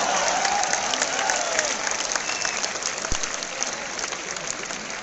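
Audience at a BCP event clapping in steady, dense applause throughout, a broad crowd sound with faint voices mixed in.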